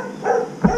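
A single short dog bark, fairly close and moderately loud, in a brief moment with a faint background hum.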